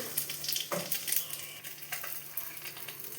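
Dried red chili and black cumin sizzling in hot oil, a steady close frying hiss with small crackles and a few stirring scrapes.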